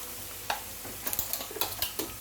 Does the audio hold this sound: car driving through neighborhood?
no